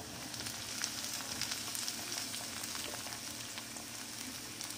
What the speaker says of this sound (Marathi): मिरचीला थोडं परतून घ्यायचं 1 मिनिट, आणि त्यानंतर आपण टोमॅटो टाकूया।